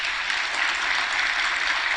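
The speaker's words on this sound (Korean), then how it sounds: "고등부도 박수 한번 쳐줘요." A church high-school youth group applauding together, a dense, even burst of clapping that fills the whole short moment with no voices on top.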